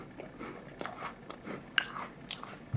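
Someone bites into and chews a crunchy Walkers shortbread Scottie dog cookie, giving several soft, close crunches and chewing sounds at a quiet level.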